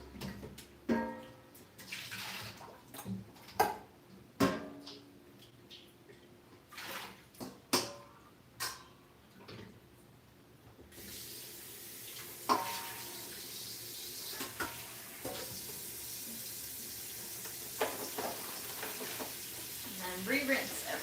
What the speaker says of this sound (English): This is my first change of water, so I'm going to go ahead and dump this water.